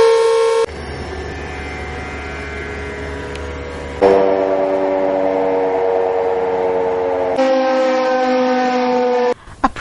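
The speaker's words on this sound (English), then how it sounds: "a 2-minute silence was observed while the siren was wailing" A civil defense siren wails steadily during a two-minute silence observed for Mahatma Gandhi in Manipur, its sustained harmonic tone rising and shifting pitch in distinct stages, loud and alone with no talking.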